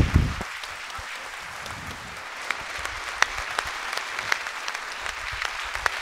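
An audience at a mayor's New Year wishes ceremony in Fourmies claps in a moderate, room-filling round of applause, with a few sharper individual claps standing out and no speech over it.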